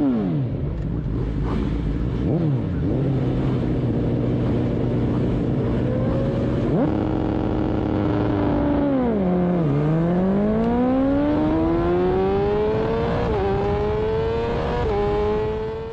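Engines roar and accelerate together at a race start at Chimay, a loud, continuous drone whose pitch climbs, drops at gear changes and climbs again over sixteen seconds, up close from the field of racers.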